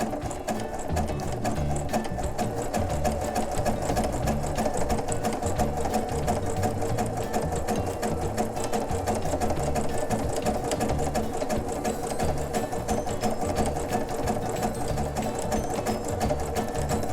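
Sewing machine stitching fabric for a horse tail bag, a steady fast mechanical whirring and needle clatter running continuously at close range, no talking.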